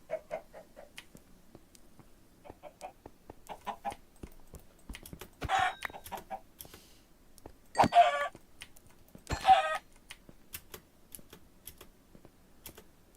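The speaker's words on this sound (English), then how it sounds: "Chickens fighting reflections in the distance." Chickens cluck in a Minecraft game world, scattered short clucks and squawks at moderate distance with a few louder bursts over sparse clicking, no voices.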